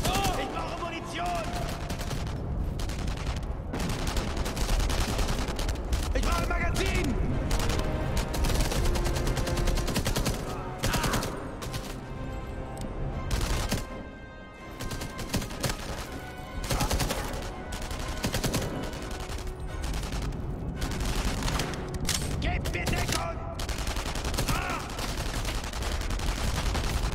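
Dense, rapid gunfire crackles almost continuously in the video game Enemy Front, bursts of automatic shots and explosions layered together with brief lulls, loud and chaotic like a game firefight.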